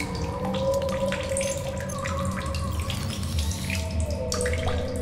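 Water gurgles and trickles steadily as a container is filled from a source in the video game The Solus Project, a continuous splashing flow with no talk.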